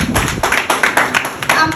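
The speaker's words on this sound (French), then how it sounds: "Applaudis pour toi-même." Audience clapping for themselves at a SolarGroup project presentation in Porto-Novo, a burst of crowd applause lasting under two seconds with rhythmic surges and loud bright hand claps, with some voices mixed in.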